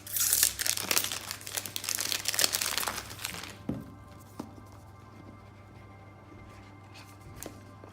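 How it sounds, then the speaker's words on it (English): Plastic packaging being cut and peeled off an Apple iPhone XS box with a bread knife, giving dense crinkling and tearing for about three seconds, then quieter scattered rustles and a few soft clicks. "So let's get the packaging off and take a look inside."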